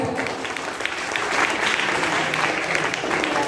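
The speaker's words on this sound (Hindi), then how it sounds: "Please clap for all of us." Seminar audience applauding in a hall, steady dense clapping throughout with a crowd murmur underneath, fairly loud and close.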